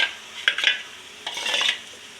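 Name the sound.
stirring paneer gravy masala in a pan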